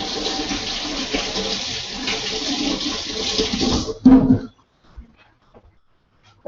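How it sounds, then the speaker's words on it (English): Tap water runs steadily over hands at a kitchen sink while preparing mango salsa, a continuous splashing rush that stops abruptly near the end, followed by a few faint clicks. "All right, wash my hand."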